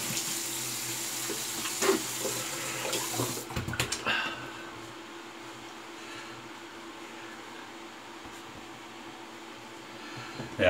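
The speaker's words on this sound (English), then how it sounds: "So let me do a fresh rinse." Water runs from a tap into a sink while rinsing a lathered face during a wet shave with a Merkur 37C slant razor, splashing and gurgling in a steady broadband rush that surges for the first few seconds, then settles into a softer flow.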